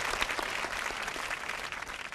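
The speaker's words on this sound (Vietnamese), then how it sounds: "Vỗ tay." Steady crowd applause fills the whole stretch, dense and even, cheering on a young man about to sing on a Vietnamese comedy stage show.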